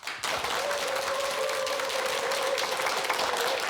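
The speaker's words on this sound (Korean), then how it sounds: "큰 박수로 맞이해 주십시오" Studio audience applause welcoming a lecturer to a televised lecture, dense clapping that starts abruptly and holds steady, loud and even, with a faint sustained tone beneath it.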